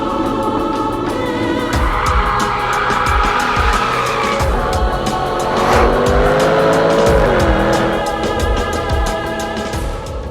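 A Jaguar F-Type V8 S with 488 horsepower and an electronic locking differential slides hard, its loud V8 roaring steadily while tires squeal continuously throughout, close and without speech.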